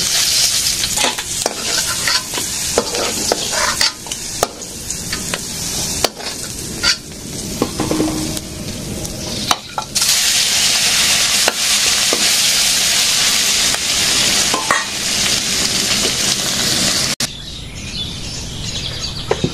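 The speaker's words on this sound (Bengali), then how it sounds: "মাছ ভাজা হয়ে গেছে, শুকনো মরিচ ভাজছি।" Dried chillies fry in a pan with a loud, steady sizzle and repeated stirring scrapes, while faint bird calls sound in the background and the hiss changes tone near the end.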